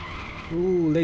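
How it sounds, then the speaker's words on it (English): A GT3 race car in the RaceRoom racing game at Dubai Autodrome braking late into a corner, with a sharp tonal tire squeal that rises and holds for about half a second above engine noise, loud and close. "Ooh, late braking."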